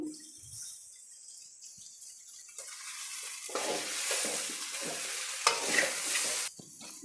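Fried sesame seeds stirred into a horseradish stir-fry (palya) in a pan, a soft sizzle and scraping stir building after a quiet start and running steadily for several seconds.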